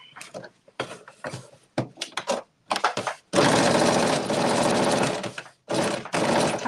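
Sewing machine top stitching a garment seam, running in a series of short stop-start bursts followed by a longer sustained whirring run, close and fairly loud.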